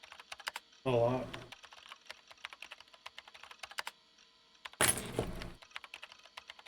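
Light keyboard tapping from the Chaos;Head game, a quiet run of small clicks interrupted by two short louder bursts.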